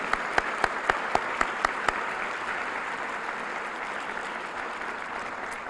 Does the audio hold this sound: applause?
yes